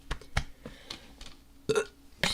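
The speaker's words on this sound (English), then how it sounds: "Excuse me, just burped." A single burp from someone reading a book aloud, a short rough gulp-like sound standing out against quiet room noise, along with a few other small mouth and throat noises.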